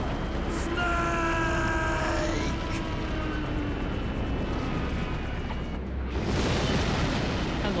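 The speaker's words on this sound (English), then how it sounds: "Dude, I just hit you with 16 missiles." Missile explosions in Metal Gear Solid come as a heavy rumbling barrage with whining missile tones sliding down early on, then another loud burst of blasts near the end.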